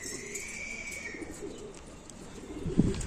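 A pigeon coos softly, with faint chirps over a low background hum and a brief knock near the end.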